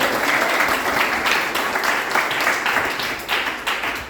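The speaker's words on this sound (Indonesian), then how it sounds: "Beri tepuk tangan bagi Tuhan." A church congregation claps during a Sunday sermon, a full continuous burst of applause from many hands that stays loud and even throughout.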